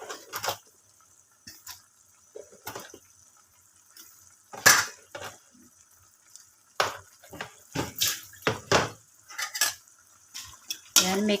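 Pechay and eggplant being stirred in a pan, giving scattered utensil scrapes and clatters that come in bursts with quiet gaps between them, fairly close and with no talking.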